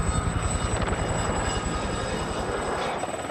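A helicopter flies close by, its rotor beating in a fast, steady low thump under a loud continuous engine whine that carries throughout.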